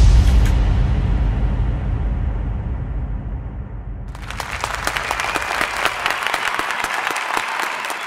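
Loud crowd applause for dancer Khushi Karki at a Tamang Selo dance show, following a deep rumbling roar of cheering; dense, steady clapping fills the second half without pause.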